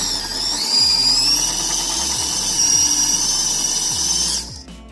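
A small electric motor spins an RC truck axle against metal to grind off the knurling, giving a steady high-pitched whining grind for about four seconds before it winds down and stops.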